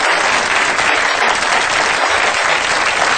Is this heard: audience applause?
yes